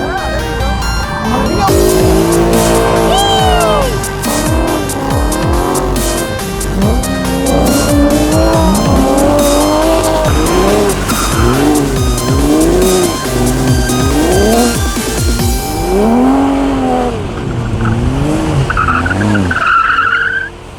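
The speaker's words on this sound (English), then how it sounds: "The BMW drifting around the BMW." A BMW drifting, its engine roaring with long wavering tire squeals that rise and fall continuously, loud and close, ending as the squeal thins out near the end.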